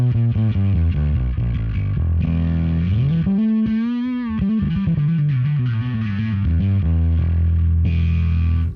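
Bass run through an Ampeg SGT-DI with a crossover-type distortion pedal, gritty sustained notes sliding up and down in pitch with a bending passage midway, played loud with no voices.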